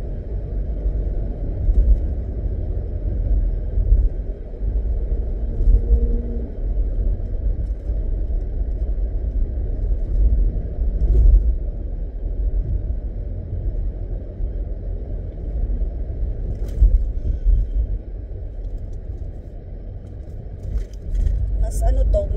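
A car cruises along at a steady 60 on cruise control, its low road rumble and engine drone continuous from inside the cabin, with a few faint bumps and a person talking over it.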